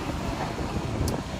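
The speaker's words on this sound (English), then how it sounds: "And the wind." Wind rushes across the microphone on a beach in Altea, Spain, a loud continuous roar with a faint wash of surf underneath and no talking.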